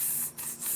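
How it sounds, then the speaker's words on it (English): A handheld anti-ashy skin spray bottle hisses in two quick bursts separated by a short gap, close and crisp, with no talking over it. "This is my anti-ashy spray, you know?"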